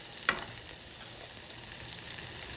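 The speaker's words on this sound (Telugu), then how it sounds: "ఉల్లిపాయ ముక్కలు, కరివేపాకు వేసి వేయించుకోవాలి." Onion pieces and curry leaves fry in a pan, a soft continuous sizzle at low level with one sharp clink near the start, heard close with no talking.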